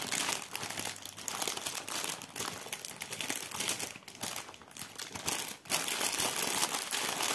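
Small plastic pouch holding cross-stitch threads being handled and crinkled, a steady close rustling and crackling that runs almost without a break, with brief dips, and no voices.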